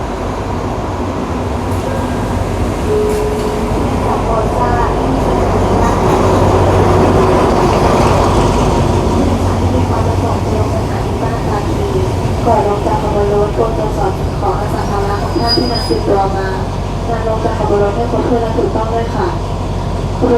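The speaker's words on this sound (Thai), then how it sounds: "ขบวนรถเร็วที่ 112 เด่นชัย กรุงเทพอภิวัตนะครับ เข้าสถานีบ้านตาคลีแห่งใหม่" Express train No. 112 from Den Chai to Krung Thep Aphiwat rolls into the new Ban Takhli station on a double-track line, a loud, steady rumble with wheel clatter and screeching throughout, while someone talks over it.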